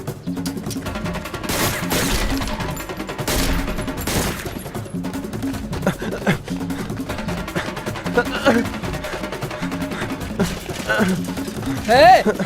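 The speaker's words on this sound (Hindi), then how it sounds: "लगता है गोली चलानी पड़ेगी" Bursts of gunfire crackle over a dramatic music score in a Hindi-dubbed Chinese movie, with rapid shots and crashes cutting through the mix.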